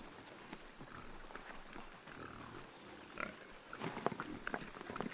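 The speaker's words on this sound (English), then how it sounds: "The black Iberian pigs can be traced back to ancient times." Black Iberian pigs grunting and snuffling outdoors while foraging for acorns, soft and intermittent, with rustling movement and a louder burst of activity toward the end.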